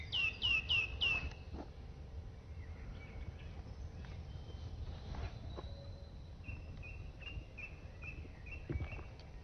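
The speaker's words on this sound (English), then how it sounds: "Now they're talking amongst themselves about whatever birds talk about." Wild birds calling outdoors: a quick run of bright chirps opens, followed by scattered calls and a repeated series of short tweets later on, all fairly faint over a steady low rumble and insect hum.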